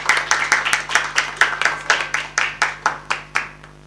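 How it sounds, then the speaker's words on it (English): A small audience applauds a keynote speaker at a Bombay Chamber event on India's AIF landscape and GIFT City, producing a steady run of distinct, evenly spaced claps that carry on for a few seconds before stopping. "Once again, one round of applause for our keynote speaker."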